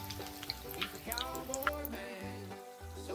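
Quiet bubbling and crackling of donut holes deep frying in hot oil, soft and continuous with faint pops.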